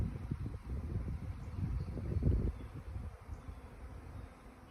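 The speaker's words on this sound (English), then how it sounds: "There's like a hovering of bees in my yard." A swarm of bees hovering in a yard near an apple tree makes a dense, steady low buzzing drone, close and fairly loud with some wind noise, no talk.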